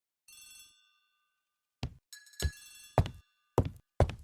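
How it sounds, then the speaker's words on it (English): A single telephone bell rings briefly, followed by a series of dull thuds and knocks spaced unevenly after a short silence. "The telephone in the hall is ringing."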